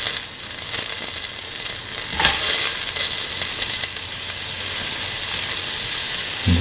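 Red chili and onion pieces hit a hot pan and sizzle loudly, a dense hissing crackle that flares briefly and then settles into a steady, close, bright fry, with no talking.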